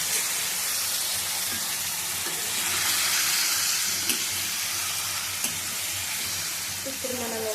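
Tomato pickle cooks in oil over a low flame, giving a steady, even frying sizzle with soft bubbling throughout and a few faint clinks near the end. No one speaks.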